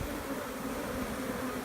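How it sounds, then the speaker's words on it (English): A steady, dense buzzing hum of many honeybees on a hive cover, continuous and close, with no talking. "Quite a few bees on the cover."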